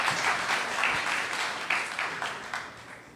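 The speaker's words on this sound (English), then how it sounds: "You guys can clap." Audience clapping after a tech presentation at a San Francisco new tech show, a few seconds of moderately quiet, fairly dense applause from a small room that gradually tapers.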